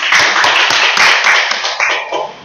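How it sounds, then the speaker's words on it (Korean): An audience at a lecture hall presentation applauding, dense close clapping that starts loud and tapers off over a couple of seconds. "우리 박수 한번 다시 부탁합니다"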